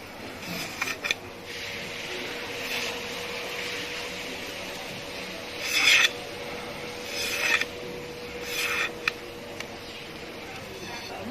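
Knife scraping thin bamboo strips for weaving an Isan sticky rice basket in northeast Thailand: a steady low rasp broken by several louder, harsher scraping strokes, close by, with faint voices in the background.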